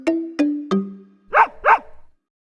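A dog gives three clear, close barks in a steady rhythm, followed by two rougher, noisier yaps that trail off into a brief rapid flutter.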